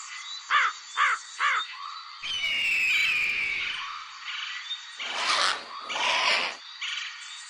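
A crow caws three times in quick succession, loud and close, followed by harsher rasping calls and a couple of scratchy bursts, with no voices.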